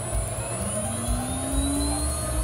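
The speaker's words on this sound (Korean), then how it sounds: "이번에 보여드릴 기계는요, 네, CNC 머신입니다" A small CNC milling machine with a 300 by 400 mm bed and water-cooled spindle motor runs with a steady mechanical whine, shifting tones and a low rumble, close and continuous with no voices.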